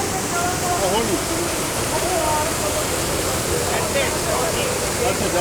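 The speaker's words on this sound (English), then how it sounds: "The waterfall is right there, and I'm standing so close to the waterfall." A waterfall in Canada heard from very close, a dense unbroken rushing roar of falling water that fills the whole scene, with faint family voices now and then under it.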